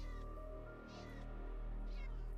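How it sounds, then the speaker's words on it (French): A strained, choking cat cry from a Minecraft horror mod, made of several wavering meows with a sustained low drone underneath and quiet background tones. "Pourquoi il y a un chat qui suffoque?"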